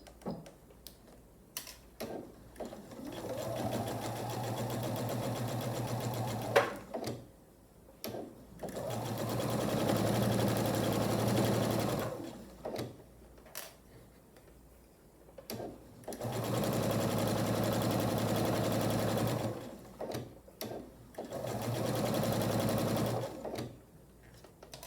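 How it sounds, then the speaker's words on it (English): A sewing machine stitches a quarter-inch seam across the top of a quilt hanging sleeve, running in several sustained bursts of steady whirring with brief pauses and small mechanical clicks between them. "Now I'll take it to the machine and sew a 1/4 inch seam all across the top."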